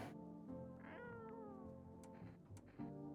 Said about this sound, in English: Decided to pet the cat. It actually likes it.